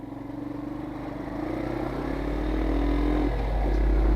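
A motorcycle climbing a steep hilly mountain road in Tegal regency, Indonesia, its engine droning steadily and growing louder as it pulls uphill under load, with wind rumble and no speech.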